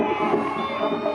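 A crowd at a women's football final cheers and applauds: a dense, sustained roar of many voices with high shouts and clapping, loud and close throughout.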